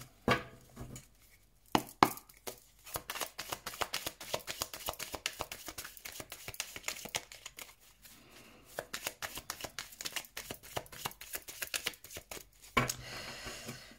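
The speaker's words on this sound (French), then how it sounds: "Alors, on va couper le jeu." Tarot cards shuffled and then cut by hand, a close run of dry papery riffles and soft slaps in uneven bursts, with brief pauses between handfuls and no voice.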